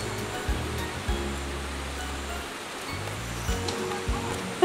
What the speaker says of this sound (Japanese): すごい音。 川っぽいんよ。